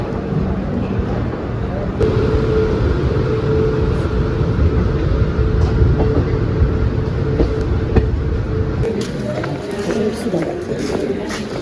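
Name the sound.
passenger train departing the station and running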